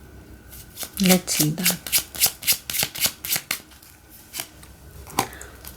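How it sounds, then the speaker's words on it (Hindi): Tarot cards shuffled close up in a Hindi pick-a-card reading, a rapid run of about a dozen rhythmic riffles and snaps, with someone speaking briefly over the start. "कार्ड्स को पहले उल्टा ही रखूंगी मैं।"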